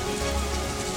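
Steady rain falls in a forest, a dense, even patter and hiss on leaves and ground, constant and fairly loud with no voices.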